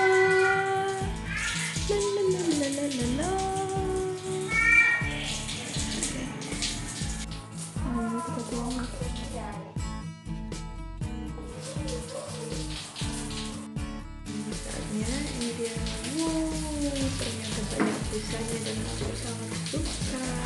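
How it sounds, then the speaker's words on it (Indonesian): Bath water from the tap runs steadily into a tub, a continuous wash of flow heard under prominent background music. "Lalu kita nyalakan airnya."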